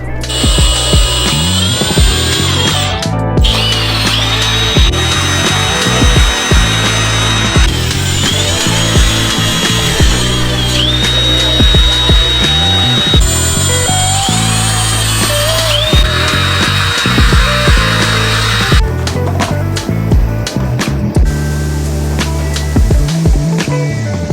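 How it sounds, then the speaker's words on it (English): A power drill bores pilot holes for self-tapping screws while a carbon fiber roof panel is fitted to a BMW E46 M3. It makes a loud, continuous whirring grind that runs almost without a break, with short rattling bursts in between. "time to make some pilot holes for the self-tappers that we're going to be using to kind of just hold this on"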